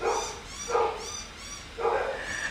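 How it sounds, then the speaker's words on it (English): Several dogs bark in three loud bursts close by, each a cluster of sharp yaps with brief quiet gaps between, with no talk over them. "my dogs are going crazy"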